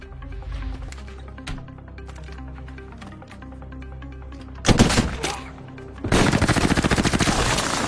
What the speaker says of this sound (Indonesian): David mendapatkan tembakan di kaki